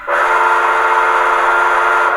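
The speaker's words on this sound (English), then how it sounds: "I'm going to go ahead and blow the long whistle." A SoundTraxx Blue Nami decoder in a model train plays a long steam locomotive whistle: one loud, sustained, steady chime-like blast from start to finish with no talking.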